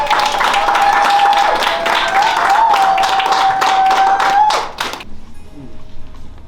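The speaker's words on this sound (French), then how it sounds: "Merci, applaudissez s'il vous plaît." A crowd of guests at a 20th wedding anniversary celebration in Quebec City claps loudly and continuously for the couple, with a sustained tone running over the applause before it cuts off into quieter room noise.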